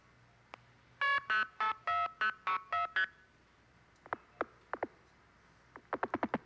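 Telephone dialing tones from a phone phreaking demonstration at The Fifth HOPE conference in 2004. A run of about eight steady, evenly spaced tone bursts is followed by a few sharp clicks, then a quick cluster of short tones, all fairly faint and without talk.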